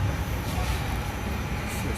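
An LRT train at Palembang station, a steady low rumbling drone of rail motion throughout, with no clear breaks.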